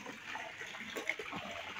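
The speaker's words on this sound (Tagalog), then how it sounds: "nagpapalit sila ng tubig" Water flowing steadily as a resort pool is being drained and refilled, a continuous gushing wash heard close by with no talking over it.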